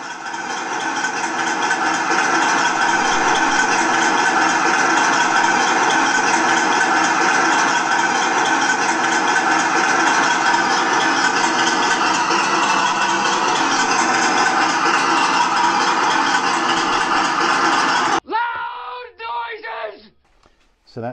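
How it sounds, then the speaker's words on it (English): A 1/6 scale model Hetzer Jagdpanzer 38 tank engine runs with a loud, steady, throaty roar, unbroken for most of the clip, then cuts off abruptly, leaving a few short scraping noises. "project its throaty noise of the engines in this amazing tank"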